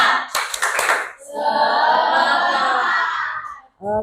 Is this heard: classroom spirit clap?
yes